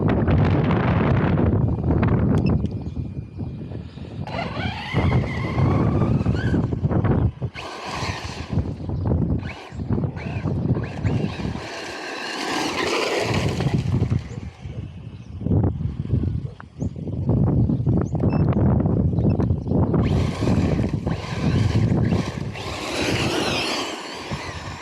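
A Team Corally Radix 6 RC car runs a stock speed pass near full throttle outdoors, loud motor whine and rushing wind blasts surging and fading over about twenty-five seconds, with heavy microphone buffeting.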